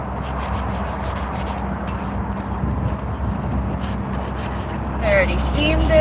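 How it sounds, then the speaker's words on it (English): A wire brush spinning on a drill scrubs a 454 big block engine with a steady abrasive rasp, continuous and close, swelling slightly near the end. "Right, wire brush and drill."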